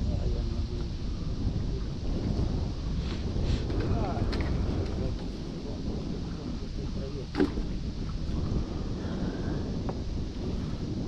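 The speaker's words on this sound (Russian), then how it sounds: "Ветер поднялся." Wind blows steadily on a riverbank during a fishing trip on the Pechora, buffeting the microphone with a loud continuous low rumble for the whole stretch while someone talks under it.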